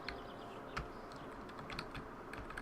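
Rapid, uneven clacking of typewriter keys in the game The Novelist, close and fairly quiet over a soft background hum, with no voices.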